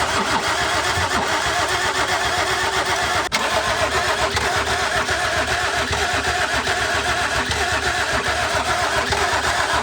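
A car engine cranks repeatedly while trying to start, a loud, continuous churning drone that never quite catches, close and steady for the whole stretch.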